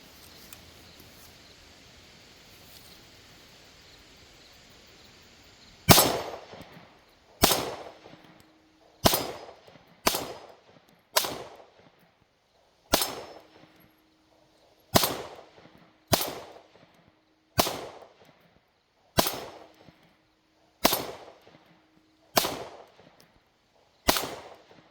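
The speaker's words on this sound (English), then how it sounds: "Get that loaded up, and we're going to go ahead and shoot 17 rounds." Sig Sauer M18 pistol with an XCARRY grip firing a string of shots outdoors, a dozen or more loud sharp cracks spaced about a second apart after a few quiet seconds, each with a short ringing decay.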